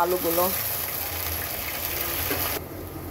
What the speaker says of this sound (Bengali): এইবার আলুটাকে ভেজে নেব।